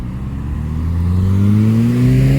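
A car coming up the street toward the listener, engine note rising in pitch and growing louder over a couple of seconds, close and alone with no talk.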